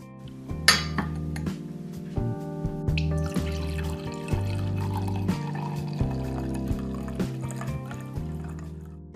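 Glassware clinks and liquid pours as a bottle of wine is opened and served, bright chimes over a sustained tonal music bed, close and fairly loud, with no talking.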